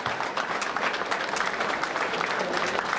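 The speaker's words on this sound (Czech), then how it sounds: "potlesk patří těmto mladým mažoretkám" Audience applauding young majorettes at an outdoor concert in Ratiškovice, a dense even wash of clapping lasting the whole stretch with a few louder hand claps standing out.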